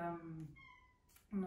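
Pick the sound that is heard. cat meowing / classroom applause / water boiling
cat meowing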